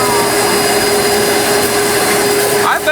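A vacuum cleaner sucking a mouse nest out of the tail section of an aircraft, a loud, constant close whine and roar with a steady tonal hum and no break.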